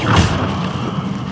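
A Bombarda blasting spell goes off in a video game, a single loud, low boom at the start that rumbles and fades over about a second.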